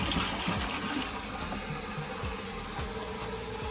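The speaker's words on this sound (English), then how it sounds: "And that's the shower." Water pours steadily from a shower in a newly built temporary guest bathroom in Zambia, a close, even hiss and splash that holds from start to finish with no voices over it.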